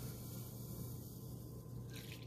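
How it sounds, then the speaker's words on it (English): Hot coffee pours from the glass carafe of a Mr. Coffee 12-cup programmable coffee maker into a cup, a soft steady liquid trickle, close and faint, with a brief rise in splashing at the end. "See how this pours."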